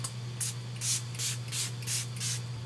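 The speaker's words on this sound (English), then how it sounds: "Purifying Sage with lavender room spray." Lavender and sage room spray misted in a few short, close hissing spritzes at an even pace, over a steady low electrical hum.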